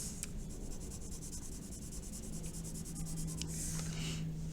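A pencil shades on paper with light pressure, giving a soft continuous scratchy rubbing that repeats in quick even strokes, close and quiet, with no voices.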